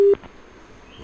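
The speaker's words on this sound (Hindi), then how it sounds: "चलिए टेलीफोन लाइन कट गई है।" A telephone line cuts off with a short, loud disconnect tone at the start, followed by near silence with faint background noise.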